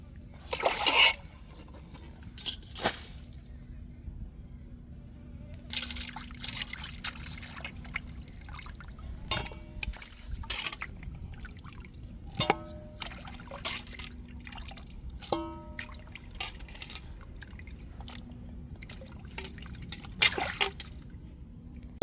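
Small fish being washed by hand in a bowl of water in a kitchen, with repeated splashes, trickles and sloshing bursts at irregular intervals, close and moderately loud without speech.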